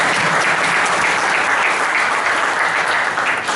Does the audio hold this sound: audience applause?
yes